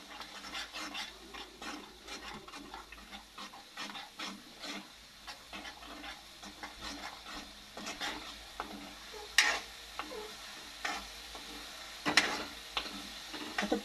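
A ground spice paste is stirred and fried in oil for a spicy Maharashtrian fish curry, giving a continuous scraping, rasping sizzle with scattered clicks of the spoon against the pan.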